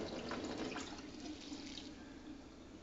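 Water poured off from a container while preparing a festival snack, a steady close splashing rush that tapers slightly toward the end, quiet and without talk.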